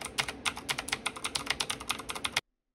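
Rapid, steady keystrokes on a mechanical keyboard with Gateron Black switches, close and clear, continuing for a couple of seconds before stopping abruptly.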